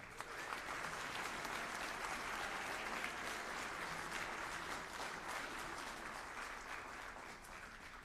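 A university music school jazz concert audience claps in a broad, continuous wash of applause, evenly sustained throughout with no speech over it, fairly distant and soft.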